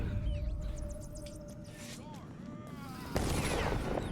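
Video-game gunfire as characters shoot at rats, with a steady murmur of game ambience and a sharper burst of shots near the end.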